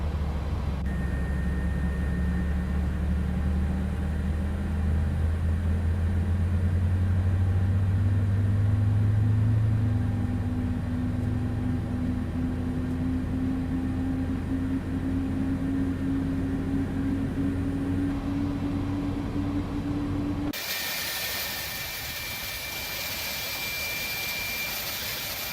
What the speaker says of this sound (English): Engine number 2 is coming up.